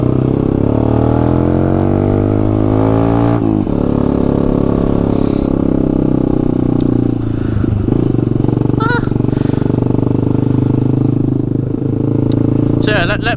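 Honda Grom motorcycle running loud and close, its engine drone steady with harmonic bands sliding up and down as it revs and shifts while riding past houses; a voice speaks over it at times.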